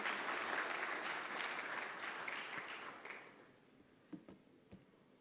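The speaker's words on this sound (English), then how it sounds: "I feel like some of you are shy with that round of applause." A conference audience claps in a dense, fairly distant round of applause that thins and fades out over about three seconds, followed by a few scattered isolated claps.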